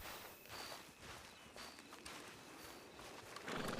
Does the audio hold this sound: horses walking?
yes